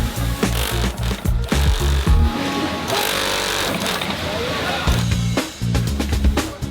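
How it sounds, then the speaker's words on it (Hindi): An industrial sewing machine in a jeans factory stitches a waistband onto denim, with loud, rapid mechanical chattering in bursts and a steadier running stretch in the middle, all set against busy factory noise. "वेस्ट बैंड को अब जीन्स के साथ सिल देते हैं।"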